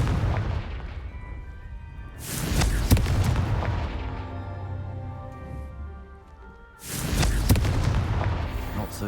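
Confringo fire spell explosions in Hogwarts Legacy, two loud booming blasts several seconds apart, each with a sharp burst and a long rumbling, crackling tail.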